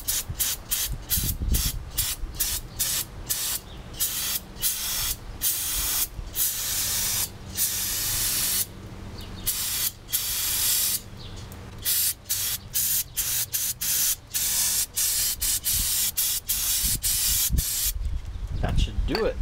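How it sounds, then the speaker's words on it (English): An aerosol can of brake parts cleaner hisses in repeated short and long sprays on a car clutch, loud and close, with brief pauses between bursts. "spray it down with some brake parts cleaner to get rid of any additional residue"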